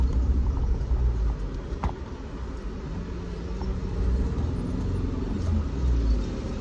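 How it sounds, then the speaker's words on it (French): Road traffic passing in Yaoundé, a steady rumble of cars and engines that swells and eases, with a few faint knocks on top and no voices. "il y a la circulation"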